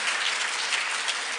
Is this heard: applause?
yes